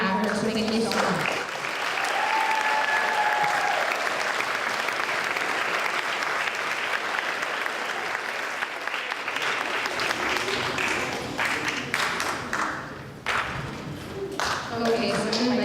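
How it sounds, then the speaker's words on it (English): Sustained audience applause fills a closing ceremony hall, a dense, steady wash of many hands clapping that carries on for most of the stretch, with faint voices and cheers mixed in before it thins out near the end. "So we need to give her a really big round of applause."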